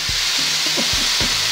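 Chicken sizzles in a Hexclad hybrid nonstick pan, a loud continuous hiss and crackle up close, with a few soft knocks of utensils against the pan.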